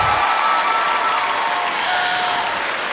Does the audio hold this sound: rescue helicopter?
no